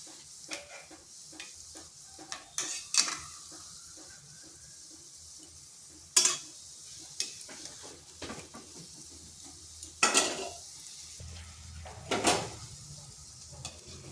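Semolina kalojam sweets fry in a pan while a spatula stirs and turns them, an ongoing sizzle punctuated by several loud metallic scrapes and knocks at irregular intervals, close up.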